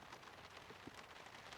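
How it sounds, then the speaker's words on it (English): Soft rain pattering on the roof of a camper van at a solo overnight camp, a faint, even patter with a few slightly louder drops and no voices. "I love listening to the sound of the rain on the roof."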